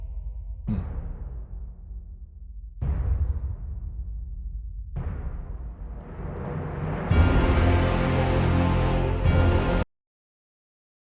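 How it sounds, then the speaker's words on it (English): Timpani in the Attack on Titan orchestral soundtrack, with deep booming strokes about two seconds apart, each ringing out. The last swells into a loud, dense orchestral passage that stops abruptly. "That's a timpani right there, also known as the kettle drum"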